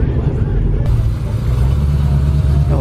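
Dodge Durango SRT Hellcat with a high-ram intake driving past at a Florida car meet, a loud, steady engine roar holding close throughout with a faint whine at the end, under crowd noise.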